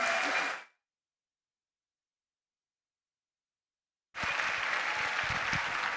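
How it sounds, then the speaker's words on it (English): Conference applause for keynote speaker Piper Christian at CCL2019: a burst of clapping cuts off abruptly, silence follows for several seconds, then full, steady clapping resumes to the end. "Let's give her another round of applause."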